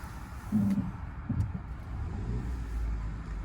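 A manual car creeps slowly out of a parallel parking spot between two traffic cones on half clutch, a low close engine rumble with a couple of soft thumps and a gentle rise in revs.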